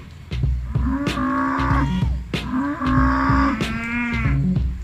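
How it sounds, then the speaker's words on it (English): A cow lows near a parked camper van in a field, giving several long, loud, drawn-out moos one after another, each rising and falling in pitch, close by and with no talking. "There's a cow here."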